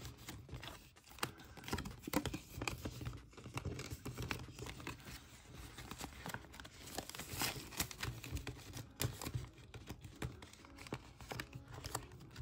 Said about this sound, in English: let's put these cards into our cash envelope